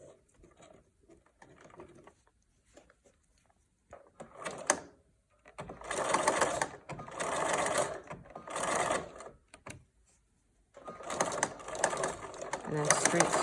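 Sewing machine straight-stitching a fabric face mask, with several short runs of rapid mechanical whirring and clatter separated by pauses. Close and fairly loud, with a voice talking quietly in the gaps.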